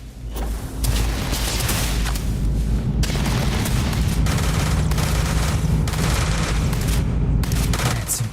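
Gunfire from the video game Starfield, rapid loud bursts of shots and blasts crackling in clusters over a steady low rumble, with no one talking.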